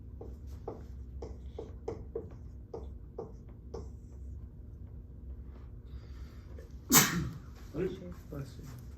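A single sharp sneeze bursts out in a nuclear physics lecture hall, loud and sudden after a run of quiet tapping and shuffling.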